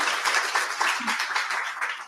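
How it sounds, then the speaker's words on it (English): An evening audience at an author event in Baltimore applauds, a brief burst of dense, fairly close clapping from many hands at an even level. "Let's give Renee another round of applause"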